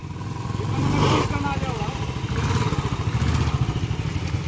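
A motorcycle engine, either a 2021 KTM Duke 125 BS6 or a Royal Enfield Standard 350 BS4, revs steadily at a quarter-mile drag race, a pulsing idle-to-rev drone that swells and holds while people talk over it.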